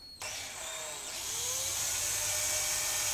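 A drill bit bores into a BSA Lightning spring air rifle stock to fit a sling swivel, giving a close, steady whine that rises slightly in pitch and runs on alone.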